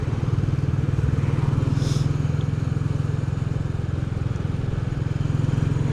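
A Royal Enfield Hunter 350 motorcycle engine runs steadily and fairly close, with a constant low, throbbing hum that holds even throughout and has no voices over it.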